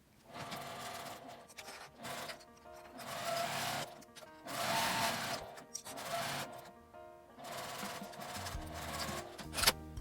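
A sewing machine stitches folded, clipped ribbon fabric with a 5 mm seam allowance, running in repeated short bursts of rapid mechanical whirring separated by brief pauses, close and moderately quiet.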